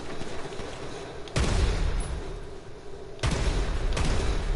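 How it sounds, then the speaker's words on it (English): Bursts of video game gunfire, two sharp loud volleys of shots rattling over a steady background roar, close and heavy, with no speech. "Who's shooting me now?"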